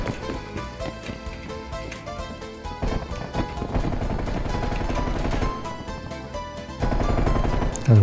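Gunfire in the Call of Duty video game, dense rapid shots layered over game music and effects, continuous and loud throughout.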